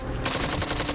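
Rapid automatic gunfire from a video game, a dense stream of shots in fast rhythm, loud and close with no talking.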